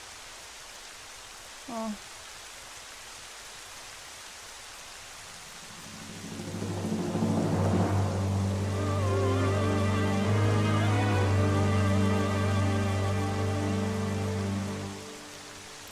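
Rain sets in with rolling thunder in the video game Twilight Princess, heard at Hyrule Castle: a short voiced exclamation early on, then a swelling storm roar with a long rumble that holds loud for several seconds before cutting off.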